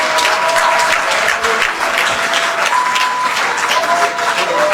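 An audience at a ceremony at Osu Castle in Ghana breaks into loud, sustained applause, dense clapping filling the space throughout.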